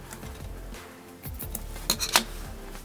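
Short close snips of scissors cutting off paracord ends on a bracelet, a few quiet rustles followed by two or three sharp clicks near the end.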